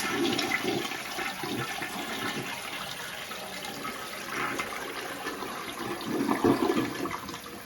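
A toilet fitted with a new red flapper and fill valve flushes and refills, giving a rushing, gurgling stream of water that rises again near the end before the float shuts it off.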